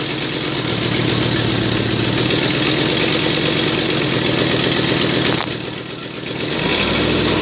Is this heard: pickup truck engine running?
yes